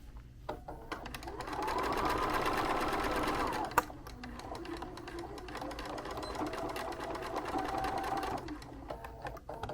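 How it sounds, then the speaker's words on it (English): Sewing machine stitching binding onto a quilt, running in a steady close whir for most of the clip, with a brief pause and a click partway through, no talking. "I'm going to sew this on until I get to the diagonal, and then I'm going to reverse right there."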